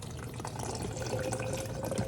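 Refrigerated coconut water is poured into a container, a steady close splashing trickle of liquid lasting a couple of seconds at low volume, with no talking.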